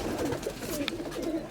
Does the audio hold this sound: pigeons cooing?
yes